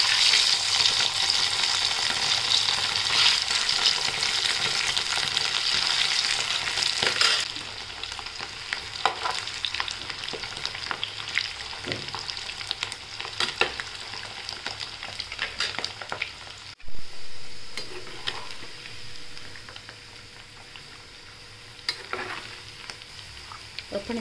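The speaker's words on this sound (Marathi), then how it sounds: "आता बटाटे तळून घेऊ सोनेरी रंगापर्यंत" Potatoes frying in hot oil for dum aloo give a loud, continuous sizzle that drops in intensity partway through, with occasional stirring scrapes and clinks over the ongoing frying.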